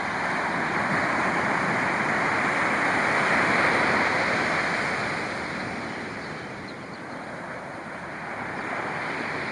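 Ocean surf at Point Reyes beach rolls in a continuous loud wash of breaking waves, swelling and easing over several seconds, with wind buffeting the microphone and no voices.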